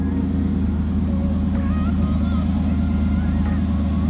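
A truck engine idles steadily after sitting unused in the rain, with the transmission recently failed, giving a continuous low rumble with a fine periodic throb that stays even and close throughout.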